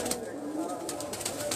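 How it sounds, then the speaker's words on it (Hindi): Pigeons coo softly on a rooftop loft, with repeated brief wing flaps breaking through a low, steady murmur; someone talks nearby. "अच्छा बुढ़ा कबूतर है"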